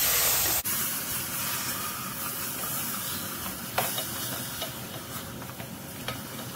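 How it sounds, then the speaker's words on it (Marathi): Milk is poured little by little into a roasting cashew mixture over a low flame, giving a sharp hiss that settles into a steady sizzle under occasional stirring taps. "आता थोडं थोडं करत असं दूध घालते"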